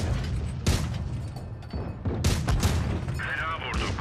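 Tank cannon fire from an American M2 Light tank in World of Tanks Blitz: several sharp, booming shots land in quick irregular succession over a few seconds, with a rattling mechanical whir near the end, over a busy game soundscape.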